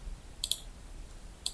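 Two short, crisp clicks of a single computer key being pressed, spaced about a second apart over faint background hiss.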